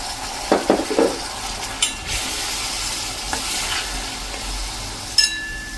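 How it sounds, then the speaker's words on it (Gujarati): Ground coriander-cumin masala frying in hot oil with a splash of water added, a steady sizzle broken by several clinks and scrapes of a spoon stirring against the pan. "અને એને આપણે આ રીતે તેલમાં કૂક કરશું."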